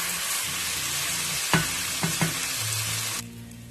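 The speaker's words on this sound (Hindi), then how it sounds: "इसको मैं अच्छी तरीके से 3 से 4 मिनट इस तरह से फ्राई करेंगे, भूनेंगे।" Beef resha pulao ingredients frying in a pot, a loud continuous close sizzle broken by a few sharp spoon knocks against the pot, easing slightly quieter near the end with no voices.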